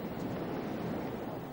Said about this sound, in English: The waves on Langland Bay that morning offered excellent surfing